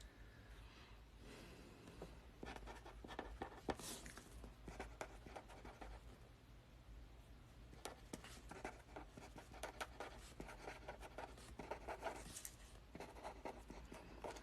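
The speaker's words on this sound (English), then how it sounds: "I'm writing down individual messages for each one of you." A pen scratches across paper while messages are written, producing faint, close, irregular strokes and taps in quick bursts over a quiet room.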